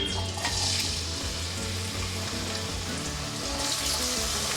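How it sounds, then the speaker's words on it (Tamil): Pirandai (adamant creeper) stems dropped into hot oil, frying with a steady, dense sizzle and faint stirring clatter throughout, close and continuous with no talk. "இப்போ எண்ணெய் சூடான உடனே நம்ம க்ளீன் பண்ணி வச்சுருக்கிற பிரண்டையை போடணும்"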